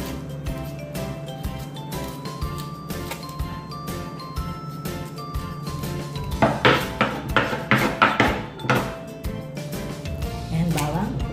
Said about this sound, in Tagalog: Magagayat naman tayo ng sibuyas para sa ating panggita.